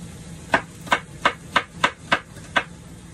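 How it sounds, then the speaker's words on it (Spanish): Kitchen knife chopping an onion on a cutting board, seven evenly spaced sharp knocks up close, loud against a quiet background. "Ok, cortamos acá, le quitamos este pedacito a la cebolla"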